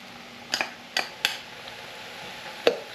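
A spoon stirs garlic and Italian seasoning into goulash in a pan, making several sharp clinks and scrapes against the metal over a faint sizzle, with no speech.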